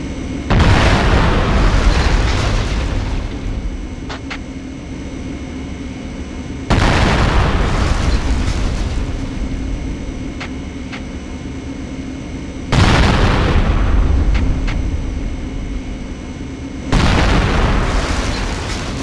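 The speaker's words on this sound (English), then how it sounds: "Use the M67 grenades on the targets and let's see how many you can get." M67 fragmentation grenades detonating on a military training range in Conflict: Desert Storm 2, four loud, heavy booms spaced several seconds apart, each followed by a long rumbling decay.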